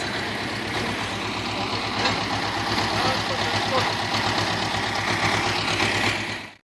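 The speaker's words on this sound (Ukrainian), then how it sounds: "Дивіться, як гасає на тракторі." A tractor engine runs steadily at a loud, even pitch, chugging without pause until it cuts off at the end.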